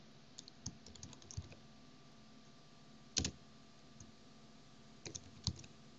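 Someone types on a computer keyboard to fill in an email address and a name, making light, close, scattered key clicks in short bursts with pauses in between, in an otherwise quiet room.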